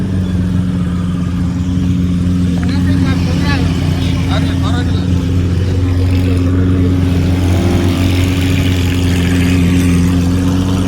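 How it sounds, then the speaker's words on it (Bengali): A Lamborghini idles at a roadside police sound check, its steady low engine drone and harmonic hum filling the scene continuously, with someone talking nearby over the rumble. "ওই সাউন্ড চেক করছে। সামনে দাঁড়িয়ে আছে একটা লাম্বরগিনি"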